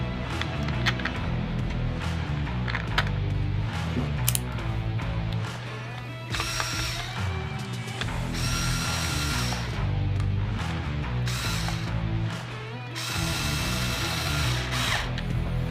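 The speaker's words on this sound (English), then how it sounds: "then you're going to put your screws back in" A power drill drives screws back into a Blackhawk Stache IWB holster, close and loud, in several bursts of whirring and ratcheting broken by short pauses, with no talk.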